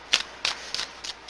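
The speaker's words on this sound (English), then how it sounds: "We're just going to put a nice shuffle on these cards before we put them down." Tarot cards shuffled by hand, four quick crisp riffles spaced evenly about a third of a second apart, close and fairly soft against a quiet room.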